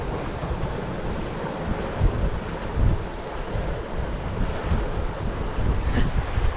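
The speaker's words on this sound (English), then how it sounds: "And we've got lots of wind." Steady strong wind and rushing waves surround a sailboat heading out past the Sound of Mull toward Lismore Island, a loud continuous roar with occasional heavier surges of water.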